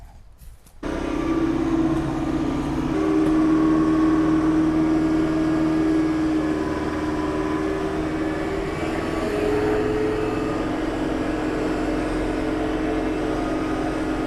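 A tractor engine in four-wheel-drive low range pulls a Ram 2500 HEMI truck uphill at about 2,600 RPM, a steady loud droning hum that starts abruptly and holds constant, with no talking.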